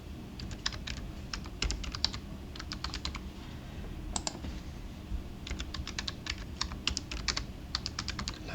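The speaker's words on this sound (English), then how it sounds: "So then I just type a proper password." A password typed on a computer keyboard during software setup, with steady clusters of crisp key clicks in short bursts separated by brief pauses, close and fairly quiet.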